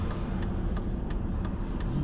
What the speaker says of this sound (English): Oh, gosh, the traffic's just that time of day.